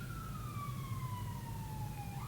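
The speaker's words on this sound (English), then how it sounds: "the ambulance goes by" An ambulance siren passes at a distance. Its wail holds and sweeps slowly down in pitch, faint above a low background rumble, with no voices.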